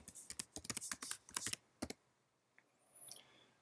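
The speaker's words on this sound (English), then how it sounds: "Type the name of the assessment." Typing on a computer keyboard while entering assessment data: a fast, close run of crisp key clicks for about two seconds, then a pause and a few faint scattered taps, quiet overall.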